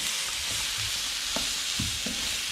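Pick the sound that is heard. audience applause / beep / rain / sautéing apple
sautéing apple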